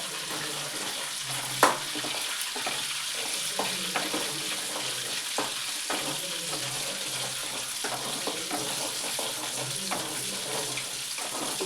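Butter simmering down into ghee in a pan at home, a steady fine bubbling sizzle with occasional small pops and a faint scrape, close and continuous.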